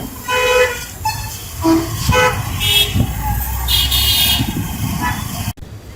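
Busy road junction traffic in Tamil Nadu, India, with car horns tooting repeatedly over a steady rumble of engines and passing vehicles, loud and close, with faint voices in the mix.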